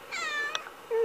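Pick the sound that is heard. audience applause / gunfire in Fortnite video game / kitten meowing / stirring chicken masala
kitten meowing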